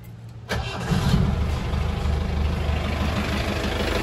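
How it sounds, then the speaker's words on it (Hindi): A Mahindra Thar fitted with a Bolero M2 diesel engine cranks and catches at once, then settles into a steady, low, rough idle heard close by. "हमने गाड़ी का इंजन स्टार्ट कर दिया ये बोलेरो एम टू इंजन है"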